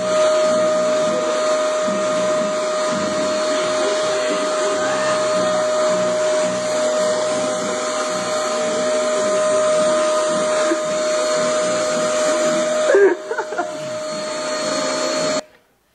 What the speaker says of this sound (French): Une dame qui passe l'aspirateur